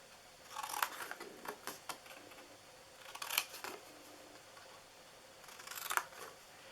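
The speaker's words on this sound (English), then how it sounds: "So I'm going to cut off these corners and cut all 4 corners off." Scissors snipping the corners off a paper Valentine's Hershey Kisses treat holder, close and clear, with a few bursts of cuts separated by short pauses.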